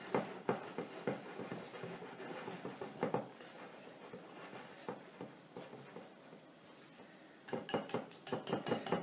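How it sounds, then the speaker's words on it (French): Marble cake batter being folded with softened butter in a bowl, a close, quiet run of irregular scraping, clinking and wet slapping strokes that quicken into a steady rhythmic tapping near the end, with no talking. "on rajoute le beurre, on retourne bien"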